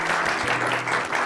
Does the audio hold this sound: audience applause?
yes